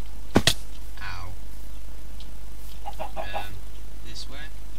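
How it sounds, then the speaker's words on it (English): Chickens cluck in a few short calls against a steady low background hum, with a sharp click near the start. "Oh. Chickens."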